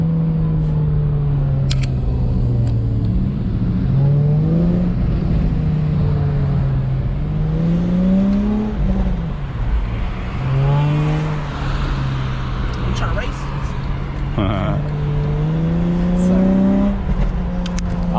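An Acura TL SH-AWD with a crackle exhaust tune drones loudly while driving, its engine note rising and falling through gear changes with sharp pops and crackles on the overrun, and a faint voice now and then.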